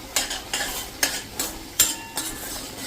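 A spoon stirs garam masala and dried fenugreek into a thick, gravy-like sev tomato curry in a pan, with about six evenly spaced scraping strokes over a faint sizzle, close and without talk.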